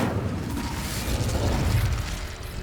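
Incendio fire spell cast in Hogwarts Legacy, a loud fiery burst with a roaring, crackling rush that swells and fades over a couple of seconds, no voices.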